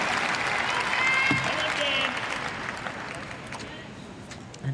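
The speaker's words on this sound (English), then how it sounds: "And again comes the cry from the crowd" A crowd at the Paralympic boccia individual BC3 final in Paris cheers and applauds loudly, a sustained swell of clapping and cries that slowly fades, with a commentator talking over it.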